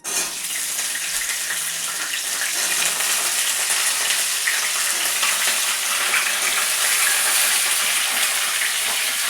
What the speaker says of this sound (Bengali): বিনসটা ভাজা বসিয়ে দিই